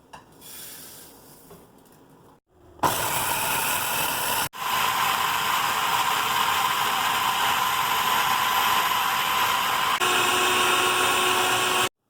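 A food processor grinds roasted sesame seeds with olive oil into tahini, a loud, steady whirring motor drone that starts after a quiet moment, stops briefly, then runs continuously to the end.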